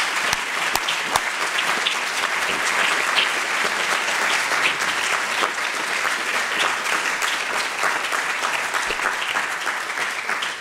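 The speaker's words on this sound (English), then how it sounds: "An applause for our panel." Sustained audience applause for a panel at an anniversary event, a dense, even roar of many hands clapping that holds at steady loudness for about ten seconds.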